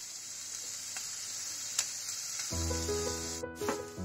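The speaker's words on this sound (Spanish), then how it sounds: "Ponemos la cebolla a que se sofría" Chopped onion fries in a hot pan for a Spanish tuna quiche, a soft, steady sizzle with a couple of light clicks, then a low steady hum joins partway through; no talking.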